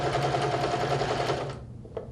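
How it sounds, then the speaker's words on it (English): Sewing machine stitching quilt binding with a steady, close mechanical whirr and rhythmic needle chatter that runs continuously, then stops near the end, leaving quiet with a faint click. "when we're sewing the binding, we'll just do 1/4 of an inch, and I'm gonna sew it a little ways here"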